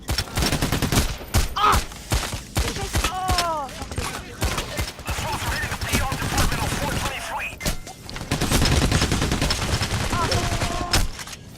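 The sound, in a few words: gunfire in Payday video game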